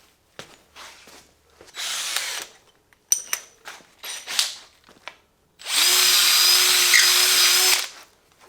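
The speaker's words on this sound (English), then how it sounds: "I'm gonna have to drill it again. But I'll hand drill it" A drill runs in bursts, opening up a tight hole in an eyelet while an axle is fitted to a 1955 Ford Fairlane. Short whirring spurts give way to a longer, steady, louder run near the end, with clicks and handling noises between.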